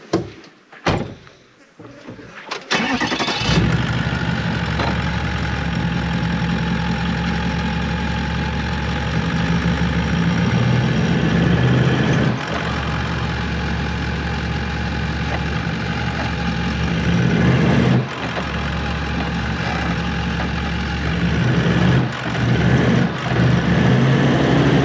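A 4x4's engine labors while stuck in a bog, a steady mid-pitched drone that holds for over twenty seconds after a few thumps at the start, loud and close.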